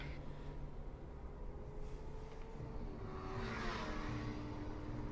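Racing cars drone as a faint, continuous engine rumble that swells a little toward the end, with no voices over it.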